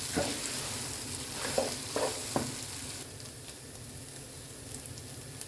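Several scraping stirs over vermicelli sizzling in a pan, then the frying continues alone as a soft, steady hiss.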